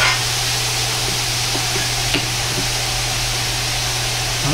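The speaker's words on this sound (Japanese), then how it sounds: "醤油ダレを鍋肌から回し入れたらニラを入れます" Bean sprouts stir-fried in a wok with soy sauce and garlic chives give a steady, close sizzle and frying hiss for the whole stretch, with faint clinks from stirring and a low hum underneath.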